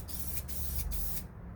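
Close spray-can hissing in short bursts, three quick sprays of primer with brief pauses between them, on the doors of a 1969 Corvette C3.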